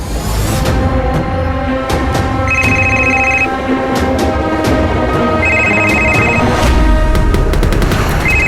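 A mobile phone rings repeatedly in short repeated bursts over a dense, loud backdrop of dramatic background music and rumbling, continuing through the whole stretch.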